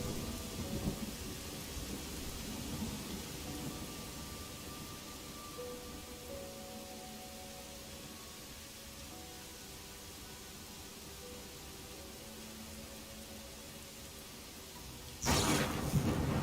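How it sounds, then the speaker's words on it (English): A thunder crack from a lightning strike in the video game Pathfinder: Wrath of the Righteous bursts suddenly and loud near the end, over steady rain and a low rumbling storm bed with soft game music. "Prepare for loud noise. Lightning."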